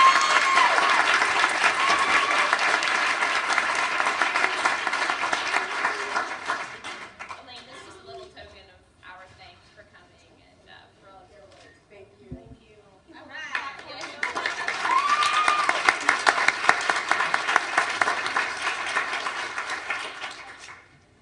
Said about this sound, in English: giving them a nice round of applause